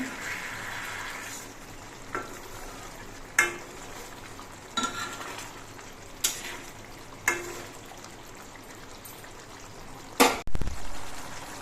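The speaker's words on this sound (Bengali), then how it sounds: "এবার আস্তে করে নেড়ে দিতে হবে" A spoon gently stirs parshe fish curry in a sizzling pan, with soft scrapes and several sharper knocks against the pan at irregular intervals over a low, steady fry.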